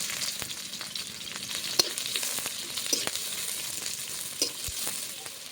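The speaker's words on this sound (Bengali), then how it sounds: "জিরে ফোড়ন দিয়ে দেবো, দুটো শুকনো লঙ্কা, পেঁয়াজ কুচি দিয়ে দেবো," Cumin seeds, dried chillies and chopped onion fry in hot oil in a village kitchen, a steady close sizzle and crackle with occasional sharper pops and stirring knocks, and no speech.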